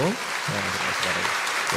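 A church congregation claps in sustained applause during a Sunday service, with a voice speaking over it at the start.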